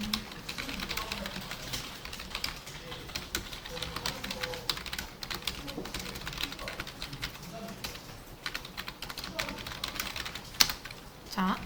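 Quick, light clicking of keys on a computer keyboard, steady and fairly faint, with occasional soft talk underneath.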